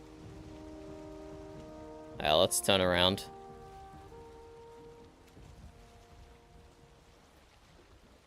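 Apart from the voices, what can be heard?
rain in the video game Valheim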